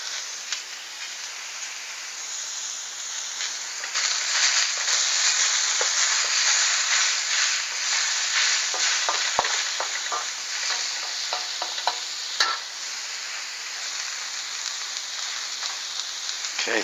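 Egg cooks with cabbage, carrots and onions in a stir-fry, sizzling steadily in the pan. A spatula scrapes and stirs now and then, making short clatters over the constant frying hiss, close up and moderately loud, with no voices.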